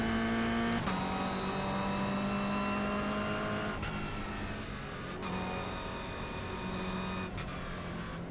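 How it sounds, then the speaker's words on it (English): Toyota GR86 race cars in the iRacing video game, a steady loud engine drone with rising pitch and several sharp gear-shift breaks as the cars accelerate, with no voices. "These cars hauling ass."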